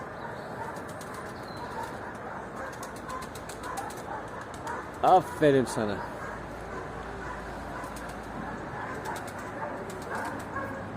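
A tumbler pigeon takes flight with a brief flurry of flapping wings near the middle, set against a soft outdoor background, while someone talks throughout.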